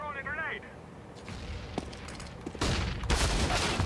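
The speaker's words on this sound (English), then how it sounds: "I'm throwing a grenade!" A grenade detonating in Counter-Strike on the map Cache, a loud close blast followed by a burst of gunfire, after quieter game sounds and faint footsteps.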